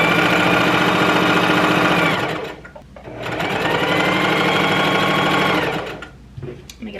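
A sewing machine stitches fabric for a bubble skirt made from an old dress, running without back-stitching in two steady bursts of about two and a half seconds each, loud and close, with a short pause between them.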